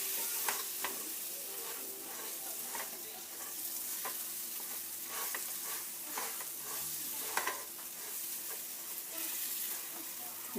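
Semolina (sooji) dry-roasting in a pan for pumpkin halwa, a soft, close crackle under rhythmic scraping strokes of a spoon repeating every second or so, fairly quiet and steady throughout.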